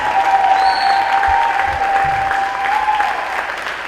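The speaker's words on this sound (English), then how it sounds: "Y'all give him a round of applause." Steady, dense applause from a large crowd at a high school address, continuous clapping throughout with a faint whistle-like tone above it.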